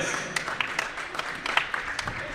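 Scattered clapping from basketball fans in a high school gym, with broadband claps and a murmuring crowd behind, fairly faint and steady over a couple of seconds, honouring a player who has just fouled out.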